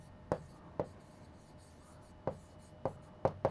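A pen writes on paper, heard as a few faint, scattered scratchy strokes with irregular gaps in a quiet room.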